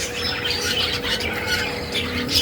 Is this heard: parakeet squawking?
yes